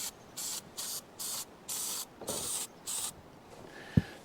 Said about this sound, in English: This is Flex Seal spray, and I'm going to try to spray this.